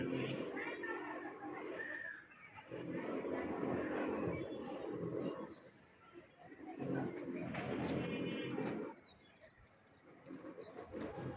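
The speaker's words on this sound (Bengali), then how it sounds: "আমার কবুতরগুলো কেমন হয়েছে বলবেন।" Pet pigeons coo in soft, repeated low murmurs that swell and fade in waves, close by, with quieter background noise between the phrases.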